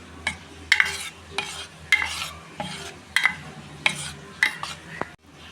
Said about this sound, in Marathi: आता हे मिक्स करायचं आणि ह्याचे डोसे बनवायचे.